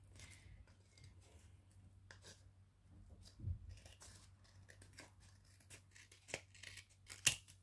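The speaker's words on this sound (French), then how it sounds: "donc là j'ai coupé ce qui dépassait" Scissors snip off excess material while crafting a small mini case, a series of faint, close, quick cutting clicks and rustles spread over a quiet hum, with no speech.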